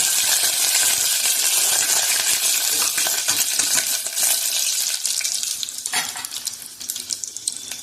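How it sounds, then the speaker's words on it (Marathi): Garlic dropped into hot oil with cumin for a tempering sizzles loudly and continuously up close, a dense crackling hiss with scattered pops and a stirring scrape that eases slightly toward the end; no talk. "जिरं फुटल्यावर यामध्ये आपण लसूण घालतो"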